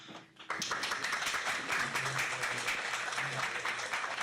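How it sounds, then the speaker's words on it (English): Audience applause at a university media studies orientation, a dense wash of clapping that starts abruptly after a short quiet moment and stays steady and fairly loud to the end. "Thank you for the applauds."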